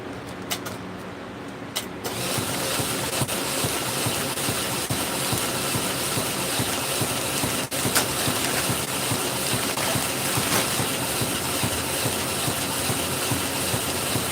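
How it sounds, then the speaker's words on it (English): After a brief quieter start, a mixing machine churning grain spawn for mushroom cultivation settles into a steady, continuous mechanical roar that stays even for the rest of the stretch. "that sound you're hearing, that is my mixing machine, which you hear off camera."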